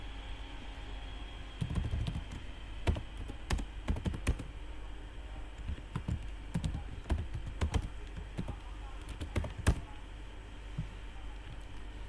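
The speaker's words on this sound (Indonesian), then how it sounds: "pertama itu kita ketik MySQL user" Close computer keyboard typing of a MySQL command in a terminal, irregular clusters of quiet key clicks spread across the clip, no talk.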